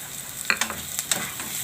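Chilies and capsicum hit a hot pan with cumin and salt, frying with a steady sizzle while a spoon scrapes and stirs in several sharp clinks and swishes, close and fairly loud, no voices.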